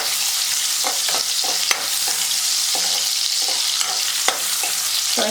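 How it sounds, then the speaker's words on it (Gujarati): Onions sauté in a pan for a winter palak-vatana shaak, giving a constant hissing sizzle. Soft spoon scrapes and taps from stirring recur throughout, close up and with no talk. "આપણે જે ડુંગળી છે એકદમ સરસ મજાની સંતળાઈ રહી છે"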